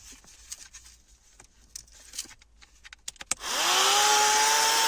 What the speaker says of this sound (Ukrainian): Незрозуміла штука виявилась автомобільним пилососом.